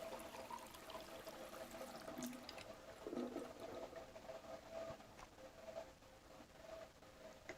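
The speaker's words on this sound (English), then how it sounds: "remplir la bouteille, c'est pas plus mal ça" Water runs into a bottle in the video game Life is Strange 2, a continuous splashing, trickling fill heard fairly faintly and alone over several seconds.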